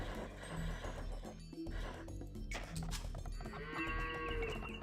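Sheep bleat in the video game Age of Empires II over a busy mix of game effects and background music, several short, nasal calls scattered through the clip at moderate volume.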